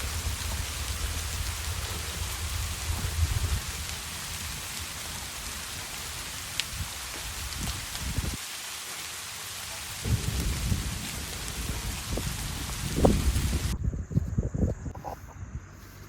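Heavy rain pours steadily over a forest campsite, a dense continuous hiss with thunder rumbling low at times, several louder bursts of rainfall and a quieter lull midway, no talking.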